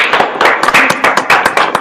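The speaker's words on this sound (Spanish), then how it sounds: "Un aplauso." Audience applause at a school-related event in Argentina, dense overlapping claps with sharp percussive hits, loud and close, continuing steadily through the moment.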